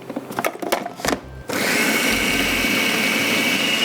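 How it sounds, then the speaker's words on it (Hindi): An electric grinder starts up on a kebab mixture, a few taps and clatters first, then a loud continuous motor whir. "ग्राइंड कर दूँ मैं"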